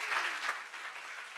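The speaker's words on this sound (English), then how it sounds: "One more round of applause for all the teams that have been competing so far." Applause from the audience for the competing teams at a regional startup pitch competition, a fairly faint, steady patter of clapping lasting the whole short stretch with no talk over it.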